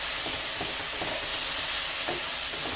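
Smoked fish (tinapa) sautéing in a pan gives a steady, close sizzling hiss throughout, with a few soft stirring scrapes and no voices.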